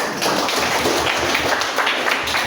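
Classroom applause from students, a steady burst of clapping that fills the room evenly from start to finish with no talk over it.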